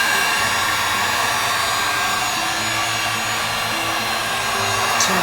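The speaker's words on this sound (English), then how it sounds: "now I can pick up my heat gun and put it on low" Heat gun set to low, blowing warm air for resin work: a continuous, even airflow roar with a faint low hum, steady for about five seconds with no speech.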